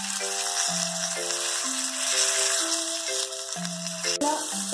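Rice-flour-coated pomfret fish fries in hot oil, giving a continuous sizzle beneath prominent melodic background music.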